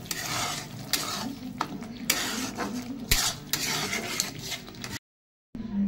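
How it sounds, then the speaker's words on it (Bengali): Shrimp with taro-leaf greens and garam masala stirred in a frying pan, a steady scraping and sizzling for about five seconds with repeated spoon knocks, then a brief silence before the stirring resumes. "এবার আমি নেড়ে নামিয়ে নেব।"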